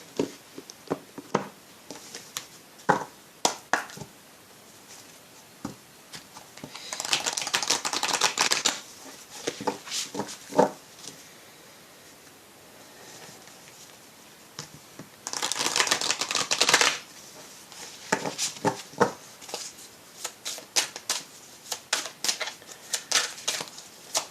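Oracle cards are shuffled by hand in two longer bursts of riffling, with scattered quick card flicks and taps between them, close and moderately loud with no talking.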